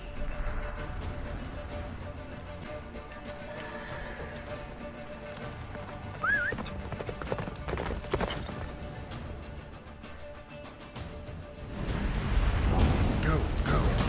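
Hooves of Roach, the horse in The Witcher 3, pound in a fast galloping rhythm through busy game ambience, with a brief whinny and a louder rushing surge near the end.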